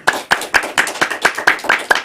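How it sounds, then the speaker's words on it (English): Steady, evenly spaced claps ring out close by at a Toastmasters club meeting, about nine sharp strikes in two seconds with a brisk, regular rhythm and no talk over them. "So round of applause."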